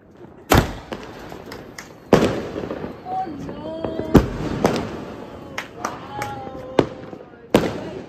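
Diwali fireworks outside: several loud firecracker bangs, among them a sutli bomb, plus rockets, spaced through the scene with crackling in between, while people talk and shout nearby.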